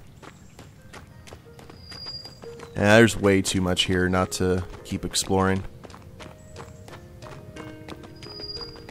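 Donkey hooves clip-clop at a steady walking pace in the fantasy video game Masquerada: Songs and Shadows, a sparse rhythmic tapping that continues under and around a stretch of someone talking.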